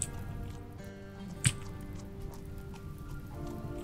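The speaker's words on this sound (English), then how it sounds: "Oh, now it's raining." Light rain falls in the RimWorld game as faint, sparse drips and soft patter over a quiet background, with one sharper drip standing out briefly.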